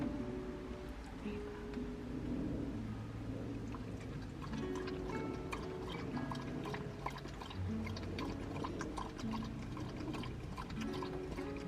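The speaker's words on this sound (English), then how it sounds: "I made myself a cup of tea" Liquid pours steadily into a cup with soft trickling and dripping, small clinks and low background rumble throughout.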